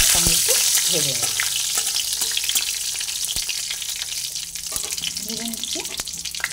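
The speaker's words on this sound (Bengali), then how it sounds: "তেজপাতা দিয়ে সবার সঙ্গে একটু ভেজে নেব।" Bay leaves crackle and sizzle in hot oil in a pan, a steady close frying hiss broken by stirring clicks and scrapes.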